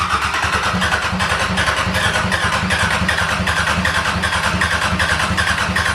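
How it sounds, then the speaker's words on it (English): A 34-year-old Sabb marine diesel on a sailboat turns over and chugs in a fast, even mechanical rhythm, loud and close, with no talk over it. "We're about to start the motor for the first time"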